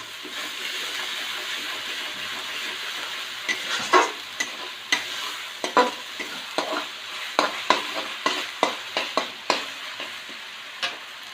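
Food fries in a pan with salt added, browning under a steady hiss of sizzling oil, while a utensil stirs and scrapes through it in a quick series of sharp clatters during the second half.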